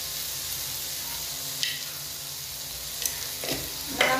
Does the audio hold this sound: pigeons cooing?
no